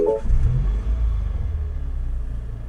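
A 300BHP Mini John Cooper Works engine cranks and catches with a loud burst, then settles into a deep, steady rumbling idle heard up close.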